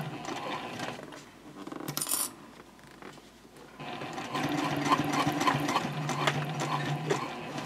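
A sewing machine stitches slowly along the curved gusset and piping of a bowler bag, a steady mechanical whir running through most of the stretch with a brief bright clink near the start.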